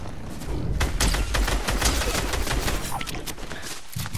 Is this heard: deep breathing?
no